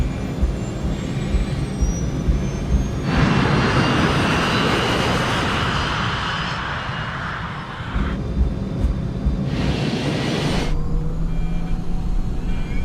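A passenger jet rolls down a 2,400-meter runway on its takeoff run, a loud broad roar of engines that swells, eases, then surges again as thrust builds, heard alone without talk.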